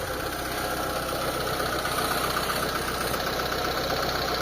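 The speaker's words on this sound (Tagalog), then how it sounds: "umandar na yung makina natin" A Mitsubishi Lancer GSR engine runs steadily just after starting, with a continuous mid-pitched idle hum and a faint rough knocking texture, close and loud throughout with no talk.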